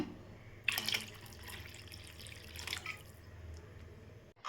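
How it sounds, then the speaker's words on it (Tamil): Water is added from a tap or vessel into appalam poo kuzhambu, a Tamil papad-flower curry, in a home kitchen, with soft trickles and a couple of brief splashes, faint and close. "இப்போ நம்ம தேவையளவு தண்ணி சேர்த்துக்கலாம்"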